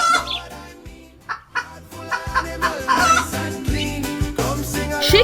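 Farm chicken clucking over a steady, rhythmic backing music track, with several short bursts of clucks and cackles spread across the clip, fairly loud and up front.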